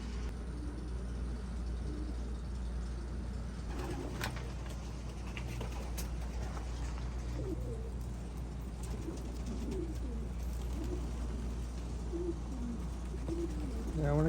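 Racing pigeons coo softly in a loft, low repeated burbling calls rising and falling over a steady background hum, with a few faint knocks and shuffles scattered throughout.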